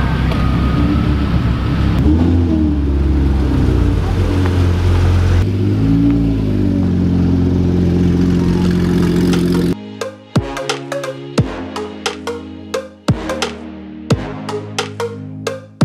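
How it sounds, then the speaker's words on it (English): A rear-wheel-drive Audi R8 at a Lamborghini car show in Newport Beach gives a loud close engine drone that swells and falls, then a series of sharp revving bursts with abrupt cut-offs. "Ooh, we got a rear wheel drive R8."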